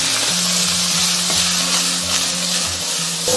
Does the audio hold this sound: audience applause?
no